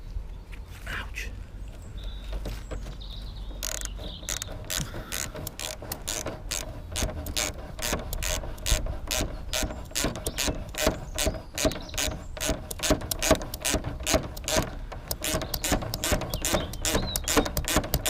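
A socket ratchet undoes a nut on a motorcycle fairing during an oil change, giving a long run of quick, steady clicking pawl strokes close up, growing slightly louder as it goes.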